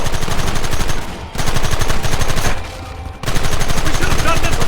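Rapid, dense gunfire rattles continuously in a Red Dead Redemption shootout, with loud overlapping bursts that pause briefly twice before resuming at full intensity.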